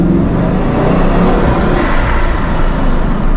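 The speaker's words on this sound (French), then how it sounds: "T'aimes bien ce son de turbo très fort là" Bugatti Chiron, a 1,500-horsepower hypercar, roaring loudly and steadily up close, with a dense engine rumble and turbo whoosh filling the whole stretch without letup.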